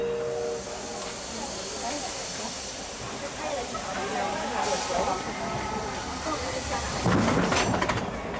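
A Disneyland Railroad steam train rolls along with a steady rumble and hiss of steam, plus faint clatter and a louder burst of noise near the end.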